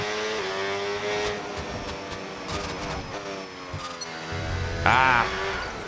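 An F1 race car engine in the video game F1 26 whines through rising and falling gear shifts, pitch sweeping up and down repeatedly, with a sharp rev burst near the end.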